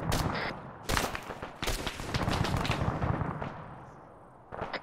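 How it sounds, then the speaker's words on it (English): Heavy machine gun fire in the military game Arma 3, a counterinsurgency fight, with dense sustained bursts and overlapping shots that come and go, loud and near, then fading before a final short burst. "Heavy machine gun south side."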